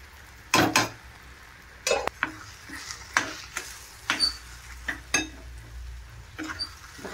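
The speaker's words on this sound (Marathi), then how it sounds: "थोडा गॅस बारीक करायचा आणि ते हटवून घ्यायचं, मिक्स करून घ्यायचं" A spoon stirring semolina and sugar in a pan over the stove, with intermittent scraping and clinks against the metal and a faint sizzle between strokes.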